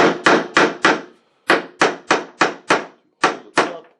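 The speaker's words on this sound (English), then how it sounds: "I'm going to start them down here because I don't want to try hammering overhead" Small nails are hammered into the wood of a vintage door, eleven sharp, ringing strikes in two quick bursts separated by a short pause, close and loud with no talking.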